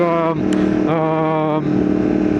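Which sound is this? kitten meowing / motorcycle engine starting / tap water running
motorcycle engine starting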